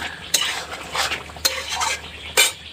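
Ground green chili paste stirred into meat frying in a pan over a wood fire, with close spoon scrapes against the pot in several bursts over a steady low sizzle.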